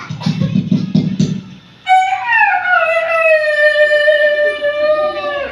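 A person mimics a rooster's crow with their mouth, a long, loud, wavering call held for several seconds that rises and falls, following a brief burst of talk and room noise.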